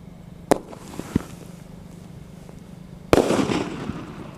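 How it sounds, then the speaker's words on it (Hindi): A Fanta City sky shot Diwali firework goes off outdoors: two sharp pops in the first second or so, then a louder burst with a crackling tail that fades over the final second. "टेस्ट करते हमारे फैंटा सिटी वाले स्काई शॉट का और देखते हैं ये कैसा चलता है।"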